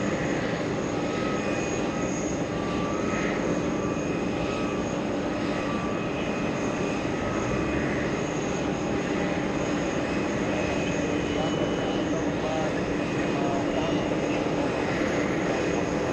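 A JetBlue airliner in Boston Celtics livery, arriving from Miami at JFK airport, makes a steady, loud, broad jet roar that holds for the whole stretch with no talk.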